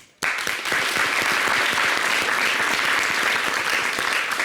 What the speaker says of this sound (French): Félicitations, on va l'applaudir lui aussi